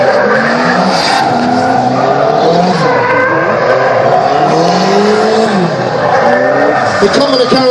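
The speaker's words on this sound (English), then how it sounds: "Whoa, it spins it around or half loose and down the bottom coming out of turn number 1 with Corey Headman" A drift car spinning on a race track, with screeching tire squeal and rising and falling engine revs, loud and close. A commentator talks over the noise.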